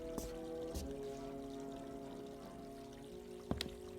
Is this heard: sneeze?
no